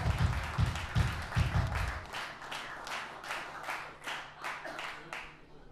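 Concert audience applause at a live rock show in a club, a burst of clapping with a few heavy low thumps early on that thins into scattered, fading claps toward the end.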